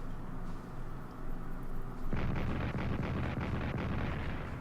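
Heavy artillery fire in the WWII strategy game Strategic Command, Soviet guns shelling Finnish positions: after two seconds of low rumbling background, a dense barrage of overlapping booms and crackling blasts begins and keeps going, loud and sustained.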